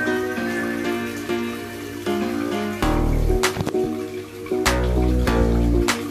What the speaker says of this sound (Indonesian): Nah, ini suara gemericik airnya